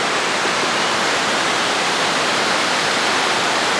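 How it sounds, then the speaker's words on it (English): A waterfall and whitewater rapids roar in a steady, dense rush of water that fills the whole clip without a break, with no voices. "Some waterfalls and things, some whitewater rapids."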